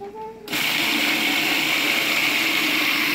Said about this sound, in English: Blender is working.